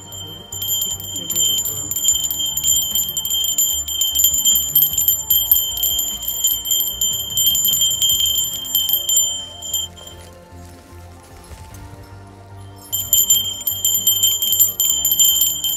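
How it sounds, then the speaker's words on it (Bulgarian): Bells ring steadily with bright, overlapping metallic strikes, pause briefly, then resume, with no voices. "Чувате ли как бият камбаните?"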